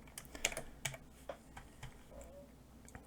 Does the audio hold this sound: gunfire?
no